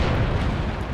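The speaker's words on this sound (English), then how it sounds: "Something is shooting. It's the gun." A gun fires in the Graviteam Tactics war game, a loud, dense, rumbling blast that fills the whole second with heavy low-end roar and no speech.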